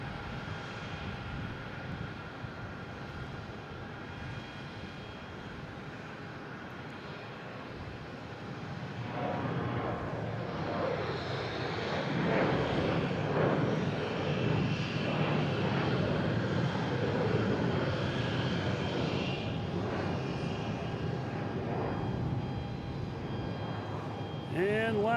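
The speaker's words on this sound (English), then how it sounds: "We have American Airlines E-175 taking off" American Airlines Embraer E-175 jet taking off from Boston Logan, engine roar building from a steady rumble to a loud, broad sustained thrust that holds near and strong throughout, with a voice briefly talking over it.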